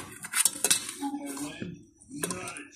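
A cooking pot and metal utensils clatter in a home kitchen, with sharp clinks and knocks in quick bursts, close and fairly loud, a soft gap midway, then more clanking.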